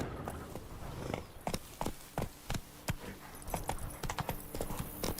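Roach, the horse in The Witcher 3, walking at an unhurried pace, with a clear, evenly spaced clip-clop of hooves close by and no talking.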